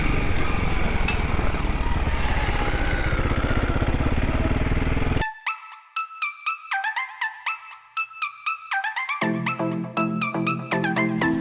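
Honda CRF300L motorcycle riding on a marked forest road, the engine a steady loud drone for about five seconds, then short revving bursts with gear-like steps and a rising hum.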